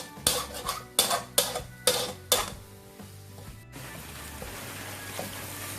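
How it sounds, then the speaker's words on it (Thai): Riceberry rice tipped into a pan of partly set egg and stir-fried, a run of sharp metallic clanks and scrapes of a utensil against the pan, then a softer steady frying hiss. "ไข่สุกประมาณ เจ็ดสิบเปอร์เซ็นต์แล้วเราก็ใส่ข้าวลงไปเลย"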